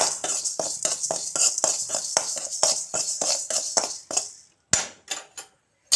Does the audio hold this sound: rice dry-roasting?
yes